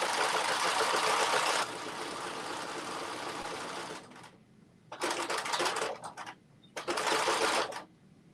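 A sewing machine stitches the front and back of a Carmen top in three bursts: a long steady run, then two shorter runs, with quiet pauses between them.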